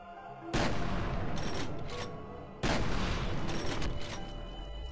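Shotgun blasts in the game F.E.A.R., two loud, booming shots about two seconds apart, each trailing off into a long rumbling decay with some mechanical clatter.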